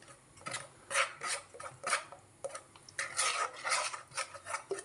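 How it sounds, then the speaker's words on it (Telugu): A spoon stirs thin, runny bajji batter for ajwain-leaf fritters in a bowl, making rhythmic scraping and clinking strokes in repeated bursts, close and fairly soft, with no voices. "ఇలా స్పూన్ తీసుకొని బాగా ఉండలేకుండా కలుపుకోవాలి"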